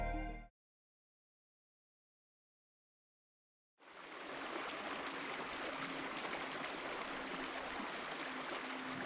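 The Little Conemaugh River in Cambria County, Pennsylvania, flowing with a steady broadband rush and hiss. A brief bit of sound opens, then near silence for about three seconds, then the continuous water noise fills the rest.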